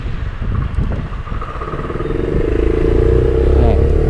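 A Royal Alloy GP300 scooter being ridden, its engine droning steadily and rising slightly in pitch as it picks up speed, with wind rush and a voice talking briefly over it.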